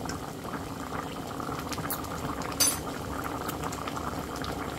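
Chicken curry simmering in a pot: a constant close bubbling and gurgling boil fills the whole stretch, with a brief sharp clink of metal on the pot partway through and no talk.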